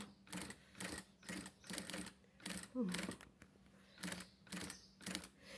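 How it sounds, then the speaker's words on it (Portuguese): A sewing machine stitches a small charger and earphone holder in a series of short, evenly spaced bursts with quiet gaps between them, heard close and moderately soft, with no talk over it. "E aqui eu passo umas 2, 3 costuras para cima e faço o retrocesso com 2 pontos."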